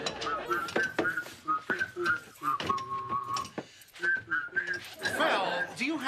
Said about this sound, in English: do you have to whistle like that while you work?